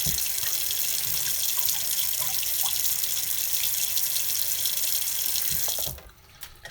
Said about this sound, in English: Get some of this water and I pour it